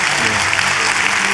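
An audience at a lecture during a history and culture forum in Gyeongju, Korea, claps loudly and continuously, a dense, close wash of applause that fills the whole moment.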